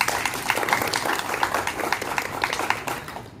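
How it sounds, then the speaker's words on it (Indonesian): Applause at a school student council (OSIS) installation ceremony as the new advisor is welcomed: a sustained, fairly loud burst of many hands clapping together from a large audience, continuing unbroken for several seconds. "kita kasih aplaus juga untuk Ibu Bunga"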